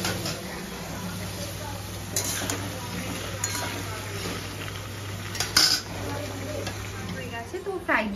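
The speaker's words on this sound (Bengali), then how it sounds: "আর এদিকে আমি ফ্রাইড রাইসের জন্য সব সবজিগুলোকে ভেজে নিচ্ছি।" Vegetables for fried rice are stir-fried in a home kitchen pan, with a steady low sizzle and the repeated clink and scrape of a utensil against metal, while people talk over it.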